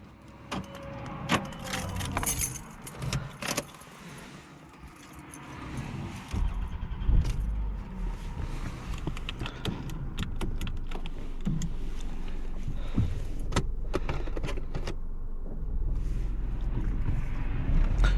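A 2001 Toyota Camry LE engine starts and the car pulls away, a steady rising road and engine rumble building from inside the cabin with scattered clicks and rattles, no talking.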